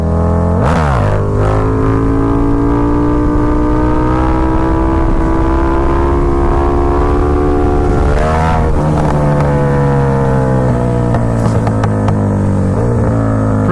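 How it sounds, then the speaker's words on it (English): Motorcycle engine held at high revs with strong steady harmonics, then dipping and surging again around the middle for a third-gear clutch-up wheelie, loud and close with wind buffeting the microphone, no talking. "I'll show you a few good clutch ups right now. We'll start with third gear"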